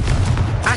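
A Confringo explosive spell cast in Hogwarts Legacy in Hogsmeade lands as a single short, loud, booming blast.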